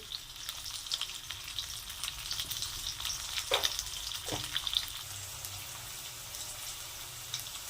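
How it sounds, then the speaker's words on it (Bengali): Potatoes fry in hot oil with a steady, quiet sizzle, interrupted by a couple of brief clinks and stirring scrapes from a utensil in the pan. "এবার আলুগুলো ভেজে নেবো লাল লাল করে ওই তেলের মধ্যে"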